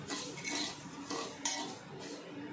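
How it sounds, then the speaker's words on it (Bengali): A spoon scraping and stirring about three spoonfuls of poppy seeds in a kadai over a gas flame, warming them lightly; a close, irregular clatter of metal on metal with soft, steady rustling throughout and no talk. "এতে পোস্ত 3 চামচের মতো দিয়ে দিলাম, দিয়ে একটু ভালো করে নাড়াচাড়া করে নিচ্ছি।"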